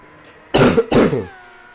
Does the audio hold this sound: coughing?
yes